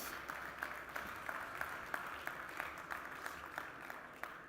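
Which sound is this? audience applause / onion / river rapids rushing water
audience applause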